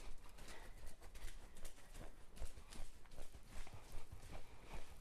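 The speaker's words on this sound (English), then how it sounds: "Nice relaxed trot." A horse trots at a relaxed, even pace, the rhythmic clip-clop of its hooves repeating steadily throughout at moderate volume, with no voices.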